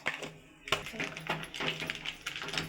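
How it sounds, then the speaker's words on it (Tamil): Mustard seeds splutter and pop in hot sesame oil in a pan, a rapid, irregular crackle of close, sharp clicks that continues without pause. "கடுகு பொரியுது."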